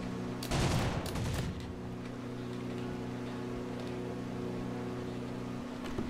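Machine gun fire from a plane in War Thunder: a loud rattling burst for about a second, over a steady droning engine hum that continues alone afterward.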